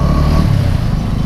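Motorcycle riding over a dusty, potholed road between Amritsar and Srinagar: a loud, close, rough engine rumble mixed with wind noise, brief and without talking.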